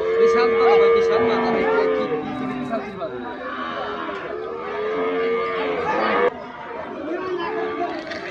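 Cows low repeatedly at a busy cattle market after Eid, long drawn-out moos close and overlapping, with crowd chatter and people talking throughout.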